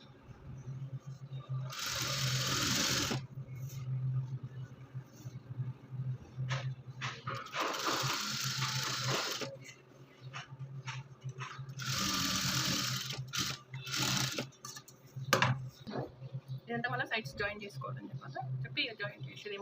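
Sewing machine stitching folded blouse fabric in bursts of a few seconds each, a steady whirring run that stops and restarts, with a person talking between and over the stitching.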